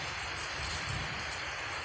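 Steady rain falls outdoors at a shooting range during target practice, a dense, even patter of drops close by with no talking.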